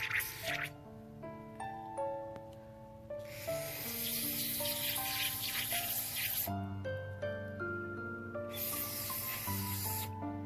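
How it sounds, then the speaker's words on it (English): Aerosol cleaner sprayed onto a bolt from the carburetor of a Troy-Bilt push mower that won't start, heard as two long hissing bursts over steady background music. "I'm going to spray down the bolt, get all that junk out."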